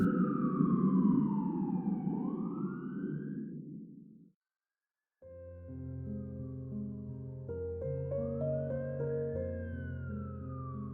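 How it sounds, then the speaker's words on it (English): A siren wails with rising and falling pitch, cuts out briefly, then returns alongside sustained musical tones, fairly faint overall. "The siren was getting closer."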